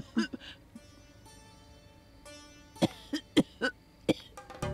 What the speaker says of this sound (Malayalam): ഈ ചുമ എങ്ങനെ ഇത്ര പെട്ടെന്ന് കൂടിയത്